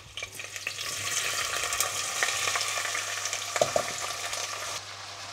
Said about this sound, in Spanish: añadimos los pimientos.